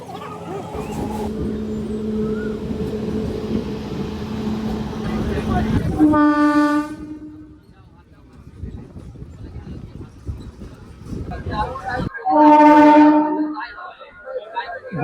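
A local train on the Howrah–Digha line stands at Deshapran station waiting for a crossing train, with a steady rumble and two loud horn blasts several seconds apart, amid ambient murmur.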